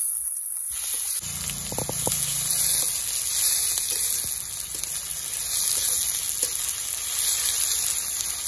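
Onions sizzle in hot oil in a pan over a wood fire while meat is being cooked. A steady, close crackling hiss runs throughout with a few brief clinks early on.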